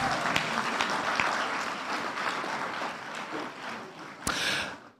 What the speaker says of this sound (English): Expecting a bigger round of applause.